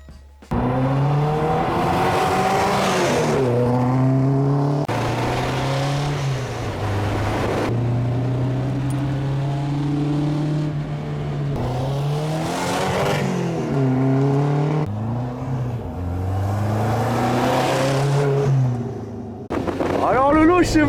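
A 1960s or 1970s convertible car pulls away, its engine revving loudly and climbing in pitch through successive gears, close and steady throughout.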